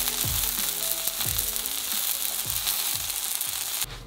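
Chicken tenderloin cutlets shallow-frying in oil in a frying pan give a steady, loud, close sizzle throughout, with a few soft low thumps from the pan and a brief louder crackle at the very end.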